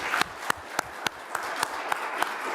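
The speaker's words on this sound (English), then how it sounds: "let's give them a round of applause" A Veterans Day ceremony audience in Arlington County claps. The applause is sparse, with distinct sharp claps about every third of a second over a soft wash of lighter clapping.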